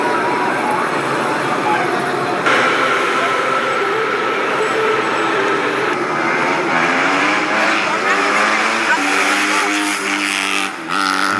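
Outdoors on a city street, a dirt bike engine drones and then revs, its pitch climbing and wavering toward the end, fairly loud, while people talk over it.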